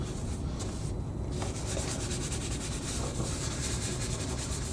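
Abrasive sanding scrapes rust and paint off the front panel of a Zanussi Electrolux Aquacycle washing machine: a continuous close, scratchy rubbing with steady strokes and no talking.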